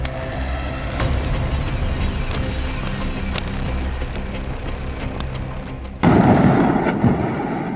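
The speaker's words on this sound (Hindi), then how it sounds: "धमाके की आवाज इतनी भयानक थी" A firecracker factory blast in Harda, Madhya Pradesh brings scattered sharp pops and crackles over a rumbling roar, then a sudden louder burst near the end.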